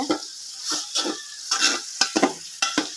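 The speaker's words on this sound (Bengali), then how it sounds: "পেঁয়াজগুলো আপনার লাল লাল করে ভাজতে হবে" Onions frying in oil in a large pot for beef khichuri, bursts of hissing sizzle broken by repeated stirring scrapes and knocks, close and lively, without speech.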